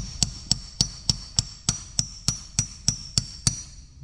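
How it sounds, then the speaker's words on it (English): Twelve evenly spaced, crisp hammer taps ring out one after another, driving a clutch spigot bearing into place on a Ford Falcon FG Barra Turbo, close and clear with no talk. "You want to start that with your hammer"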